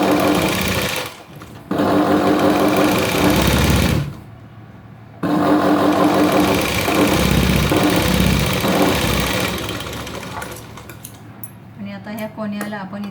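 A sewing machine stitches a V-neck blouse in loud, fast runs, stopping briefly twice and then starting again, with light clinks near the end.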